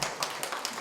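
Audience at a small library council launch ceremony clapping, a short run of crisp, fairly close hand claps in a quick, uneven rhythm.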